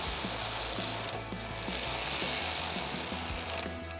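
A T15 torque socket tightens two screws on the handle of a Westin HDX grille guard on a Silverado 1500, with steady, rapid ratcheting clicks and a continuous close mechanical grind.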